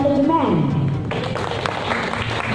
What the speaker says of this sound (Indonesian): Boleh tepuk tangan dulu dong untuk jadi manajemen.